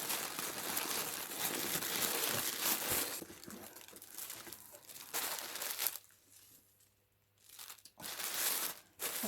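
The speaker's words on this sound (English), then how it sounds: "Even the tissue paper's got Liberty on. How nice is that? Sorry for the rustling." Liberty-branded tissue paper rustles and crinkles steadily up close, pausing briefly before a few more crackling handling sounds.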